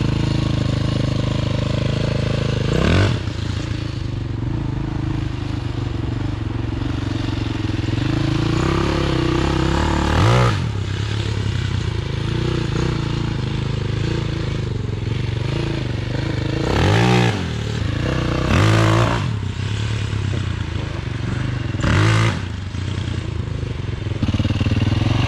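A Yamaha YZ450F motorcycle engine fitted to a Simplicity tractor roars loud and close at full throttle, holding a sustained high-revving drone with a few sharp rev surges and dips.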